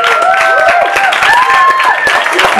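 An audience at a benefit gala applauds a performer, with a dense, even wash of clapping throughout and voices faintly audible over it.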